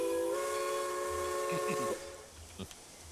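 A model railway train whistle on the Gorre & Daphetid layout sounds as a steady, stacked multi-tone chord held for about a second and a half, then cuts off, leaving faint room noise.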